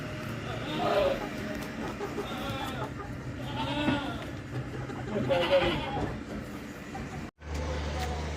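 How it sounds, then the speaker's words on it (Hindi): A goat bleats several times, loud wavering calls spaced a couple of seconds apart over a busy background murmur at a livestock market in Karachi. "माशाल्लाह अच्छी बकरी है"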